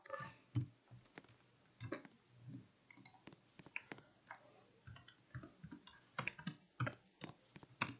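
Keyboard typing at a computer, with quick, irregular bursts of sharp key clicks and short pauses between runs, close up and fairly quiet in otherwise still surroundings.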